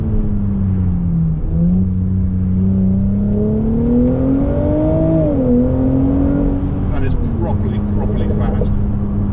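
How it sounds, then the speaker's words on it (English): A Mercedes-Benz SL400 engine drops through the gears under braking, a loud continuous drone with a tone that rises and falls, steps down between gear changes and settles into a steady hum at the end. "now if I brake, you'll hear it go down through the gears"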